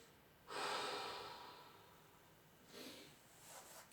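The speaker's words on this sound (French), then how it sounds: "Respirez. 2 ou 3 grandes respirations profondes pour récupérer." Two deep breaths taken during a recovery pose in a strength workout, a long close inhale-exhale rush followed by a second, softer breath, quiet and alone.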